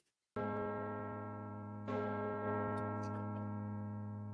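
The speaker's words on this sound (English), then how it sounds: "a large bell goes, and all the breadsticks, including all the other food, softly disappears" A large bell strikes twice, loud and close, with a long ringing resonant tone that sustains and slowly fades between and after the strikes.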